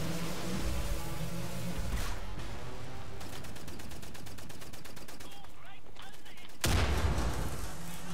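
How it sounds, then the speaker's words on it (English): A giant robot fires rapid, continuous gunfire in Wolfenstein: The New Order, a dense rattling barrage with mechanical clanks and a heavy blast near the end; no talk. "Are you ever gonna stop shooting?"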